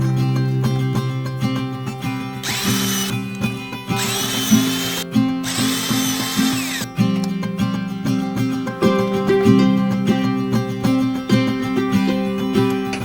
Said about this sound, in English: I will be using my Craig jig to create a pocket hole